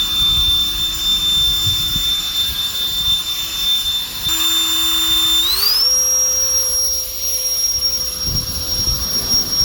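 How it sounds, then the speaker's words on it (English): A violent turbo fan in a video game shifts into second gear, a loud steady synthetic whine with a jet-like roar underneath that steps down, then glides smoothly up to a higher sustained pitch. "Second gear at 350 Gs of thrust."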